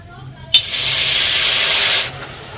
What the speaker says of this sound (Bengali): কড়াইয়ে সামান্য প্রথমে অল্প করে জল দিয়ে দিচ্ছি।